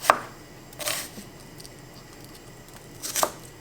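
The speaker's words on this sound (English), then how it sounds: "I'm just gonna peel this onion. And I'm not even gonna chop it, I'm just gonna slice it up." A knife slicing a peeled onion on a cutting board, three sharp crisp cuts spaced apart with quiet pauses between, close and clear.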